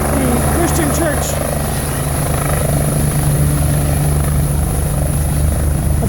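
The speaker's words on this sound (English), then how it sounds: "It is a helicopter that will be taking the two injured cyclists to Geisinger." A medical helicopter's rotor beats steadily and loudly at a motorcycle crash scene beside a church parking area, a continuous close thrum with a voice talking over it.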